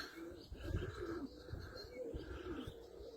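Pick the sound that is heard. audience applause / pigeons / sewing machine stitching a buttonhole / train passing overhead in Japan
pigeons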